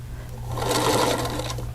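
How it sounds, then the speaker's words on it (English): A sewing machine stitches quilt fabric pieces for a double wedding ring block, a close, steady mechanical whir lasting under two seconds with a low motor hum beneath. "So I sew all the way to the center of your D piece, and then I back stitch."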